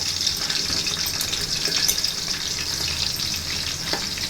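Onions and green chillies fry in hot oil for chicken dum biryani, giving a steady close-up sizzle with soft stirring scrapes and no talking.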